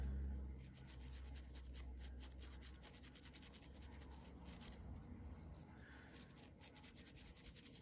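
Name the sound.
paintbrush brushing distress paint onto a surface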